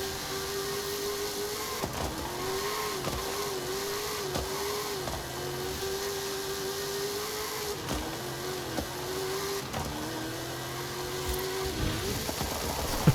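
A D-class car in Forza Horizon 5 launches under careful throttle. Its engine revs rise steadily, then drop briefly at several gear shifts, over a constant whining drone.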